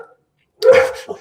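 Pet dogs at home, stirred up by a lawn mower nearby, give one short, loud, close bark after a moment of silence.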